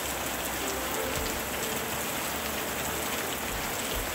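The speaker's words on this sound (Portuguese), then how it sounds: "O som da chuva é um abraço" Rain falling steadily on a surface, a dense even hiss of countless drops that holds constant and close throughout, with no voices or other sounds.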